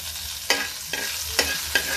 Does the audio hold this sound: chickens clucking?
no